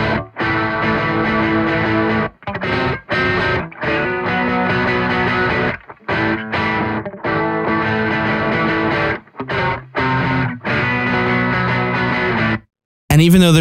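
An electric guitar played through a Laney Ironheart Aurora DSP pedal, using its post EQ into the amp, rings out in loud strummed chords broken by short gaps and a few hard stops, with no talk over it.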